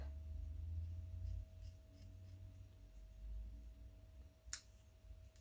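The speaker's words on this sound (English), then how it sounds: "These scissors really don't like cutting ribbon now." Quiet snipping of scissors cutting ribbon with a few soft clicks, then one sharper cut near the end, over a low background hum.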